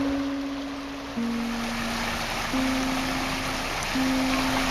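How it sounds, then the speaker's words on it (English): The Tai River rushes steadily beside isolated mountain farmland, a constant broadband flow of water. Sustained, slowly shifting musical tones sound over it. "This is the Tai River. It flows beside an old, isolated mountain farmland called Home Place."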